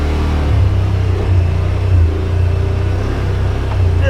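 Yamaha Wolverine RMAX2 1000 side-by-side, a 2021 Limited Edition, crawling over rocks in low gear and four-wheel drive; a steady, close, loud low engine rumble with mild swells in throttle, continuous throughout.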